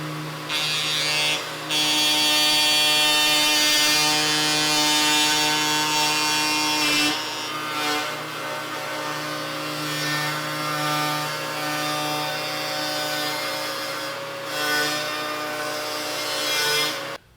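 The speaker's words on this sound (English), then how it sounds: "that's going to allow my router to have a little bit of support while I go around the edge" A router fitted with a rabbeting bit cuts along the edge of 3/4-inch plywood for a bookshelf, giving a loud, steady high-pitched whine with a brief dip in load partway through.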